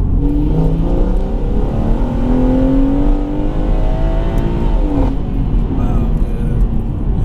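A BMW M140i tuned to 510 bhp with meth injection and AC Schnitzer springs accelerates hard, its engine note rising steadily and loudly from inside the car, dipping briefly at a gear change before climbing again.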